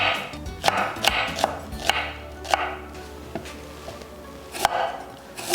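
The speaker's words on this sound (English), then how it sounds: "Thinly slice the onion." A knife thinly slicing an onion on a cutting board, sharp irregular chops landing one after another at close range, with quiet gaps between strokes.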